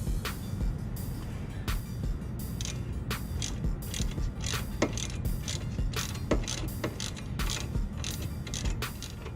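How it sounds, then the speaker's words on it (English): Socket and 19 mm open-ended wrench loosening the sway bar end link nut on a Chevy Malibu: repeated close ratchet-like clicks and metallic creaks over steady low mechanical rumble. "I'm going to use my 19 millimeter open-ended wrench and an 8 millimeter socket."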